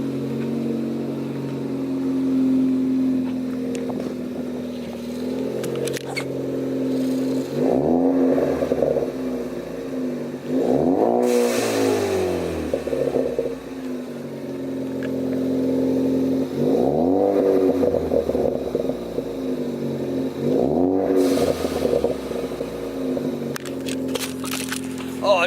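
A Ford Focus ST engine with an MBRP catless downpipe idles with a deep rumble, then revs sharply several times in bursts, loud and close, with a brief voice in between.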